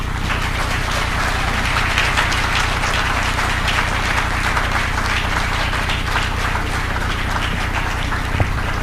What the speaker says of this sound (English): Please, another thunderous round of applause for the President.